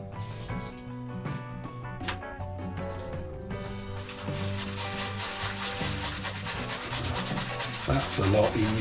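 Acrylic paint is rubbed off a plastic scale model with isopropyl alcohol, making a continuous close scrubbing and rubbing sound that grows louder and denser partway through.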